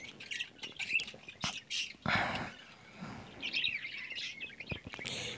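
Budgies in breeding pots squawk and chirp close by, with a busy, overlapping mix of harsh calls and quick tweets throughout.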